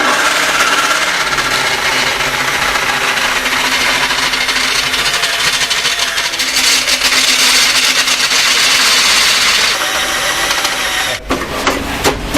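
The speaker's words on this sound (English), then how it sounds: "Drill bit, drill," A power drill bores holes during a fuel injection install on a 1984 Dodge Ramcharger 4x4, a steady loud whirring grind lasting many seconds before stopping abruptly with a few short clunks.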